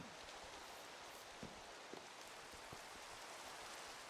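Minecraft rain patters steadily and softly beneath a dirt-block roof, a constant hiss sprinkled with occasional slightly louder drops, quiet and without any talking.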